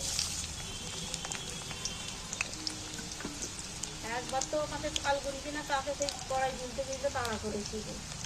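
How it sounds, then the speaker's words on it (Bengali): Chopped onions drop into hot oil in a wok and fry with a steady, hissing sizzle that runs throughout, while a person talks over it. "তেল গরম হয়ে গেছে, এইবার আমি কাটা পেঁয়াজগুলো তুলে দিচ্ছি।"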